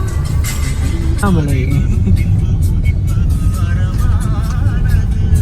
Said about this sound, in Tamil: பாருங்க இவ்வளோ டிராஃபிக்.